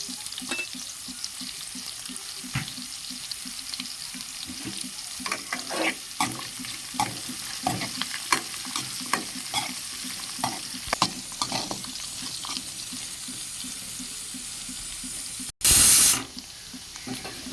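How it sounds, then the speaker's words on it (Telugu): Dried potato pieces fry in a pan with turmeric as they are stirred, a steady close sizzle broken by repeated scraping strokes, ending with a short loud rushing burst. "ఇవైతే బాగా వేగాలండి ఇంకా కొంచెం."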